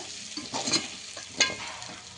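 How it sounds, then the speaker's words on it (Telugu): Goat leg pieces frying for soup in a pan on a stove at medium heat, with a soft steady sizzle and a few brief stirring scrapes. "మీడియంలో స్టవ్ పెట్టుకొని మనం ఫ్రై చేసుకోవాలి"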